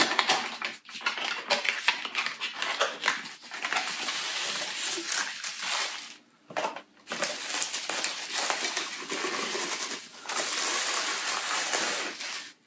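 Plastic and cardboard packaging of a USB rechargeable automatic penis pump being unwrapped, with steady close crinkling and rustling, brief pauses, and no talk.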